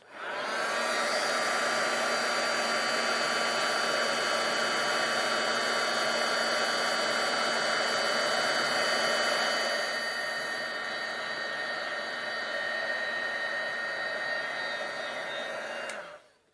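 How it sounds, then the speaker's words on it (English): Heat embossing gun blowing hot air, a loud, steady whirring hiss with a tonal whine that runs continuously for about sixteen seconds, softens slightly partway, then cuts off abruptly. "I'm going to heat emboss that again"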